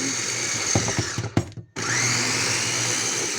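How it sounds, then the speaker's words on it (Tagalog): An electric blender whirs loudly blending garlic with oil, briefly stutters and cuts out, then starts again and runs at a steady high-pitched hum. "I-blender lang natin."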